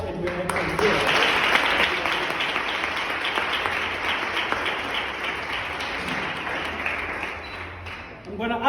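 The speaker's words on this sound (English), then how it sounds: "we could just really clap hands and be grateful that we actually survived and we're actually here" A seminar audience claps for several seconds, a dense and steady wash of applause that fades toward the end, with voices mixed in.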